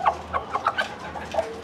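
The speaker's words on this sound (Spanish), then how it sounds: "Ya nuestra gallina también está poniendo." Several short clucks from a laying Nagasaki hen, a Japanese bantam breed, come in soft separate bursts, fairly close, over a quiet farmyard background.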